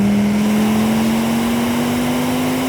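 Audi RS2 engine pulling steadily under acceleration through a corner, a continuous close drone with a slowly rising pitch and no break.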